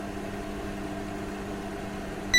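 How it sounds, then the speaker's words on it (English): A microwave oven heating food gives a steady low hum and whir, near and even, ending in a short sharp beep-like tone. "Wait until the microwave finishes heating before removing the food inside."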